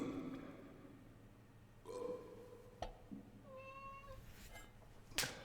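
A cat in the medieval game Kingdom Come: Deliverance meows several times, its short mewing cries faint and spaced apart over a quiet background.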